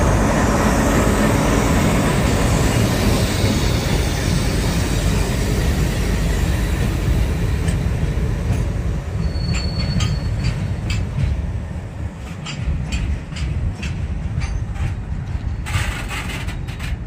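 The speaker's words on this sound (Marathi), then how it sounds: "इगनवाडी रेल्वे स्टेशनवर गाडी आलेली आहे।" A freight train loaded with gravel arrives at Iganwadi railway station near Beed. Its loud, continuous rolling roar fills the air, then eases into rhythmic clanks and rattles of the wagons.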